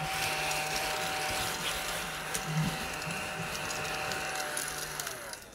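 A vacuum cleaner hums steadily while picking up sanding dust from a craft painting project, a faint continuous whine with small clicks and rattles and a short scrape partway through.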